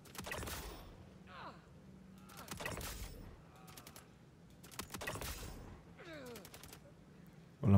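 Star Citizen firefight with sharp gunshots fired in short rapid bursts separated by pauses, some clicks and mechanical handling sounds, and someone talking between the shots.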